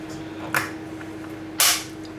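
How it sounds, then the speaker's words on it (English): A 3D-printed rucksack release clip snaps shut with two sharp plastic clicks, a lighter one and then a louder, firmer snap, close by over a steady low hum. "Let's clip them together."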